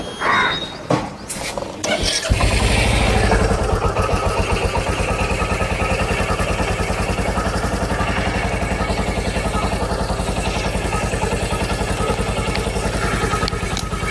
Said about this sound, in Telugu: ఫస్ట్ నేను బైక్ ఆన్ చేసి చూపిస్తాను